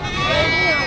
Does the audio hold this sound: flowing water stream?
no